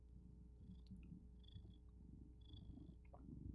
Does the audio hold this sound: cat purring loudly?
yes